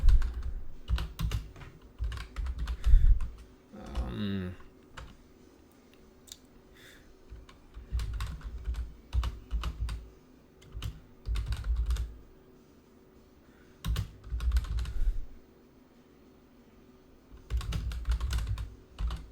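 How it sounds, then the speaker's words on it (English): Bursts of typing on a computer keyboard come in irregular clusters of quick clicks with short pauses between, close and fairly quiet in an indoor room. "Right, I'll do some typing."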